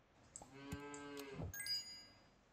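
A cow moos in a video game, one drawn-out low moo followed by a short bright chime-like tone, clear and alone with no talk.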